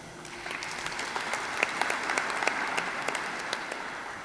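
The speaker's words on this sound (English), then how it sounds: "you must really give yourselves a round of applause." Applause from an audience at a senior citizens' sector parliament, a steady wash of clapping with a few sharper nearby claps standing out, moderately loud and continuous.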